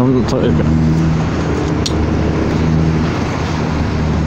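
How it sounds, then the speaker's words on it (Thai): A Honda Forza 300 scooter engine hums and revs in a steady, loud drone with a few brief sharp bursts near the start, while someone talks over it. "ดันเร่ง"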